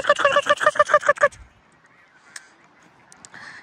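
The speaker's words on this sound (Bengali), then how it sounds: "দেখছেন অতিথি পাখিগুলো চলে আসছে সাথে।" Migratory geese at Woodbine Beach in Toronto give a quick run of about eight loud, rhythmic honks close by, then a few faint distant calls over quiet outdoor background.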